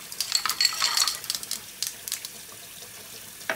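Ice cubes clink against a container and splash into cold water used to chill hard-boiled eggs, a cluster of bright close clicks and knocks followed by quieter rattles.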